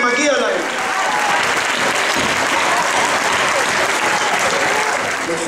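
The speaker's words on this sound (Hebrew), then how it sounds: "תקומו, תסתובבו אחורה ותמחאו להם כפיים, מגיע להם" An audience at a doctoral graduation ceremony applauds the graduates' families, a loud, dense, sustained clapping from a large crowd, close and continuous throughout.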